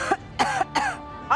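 A person coughs repeatedly on command, four short forceful coughs at steady intervals, close and clear with no talk.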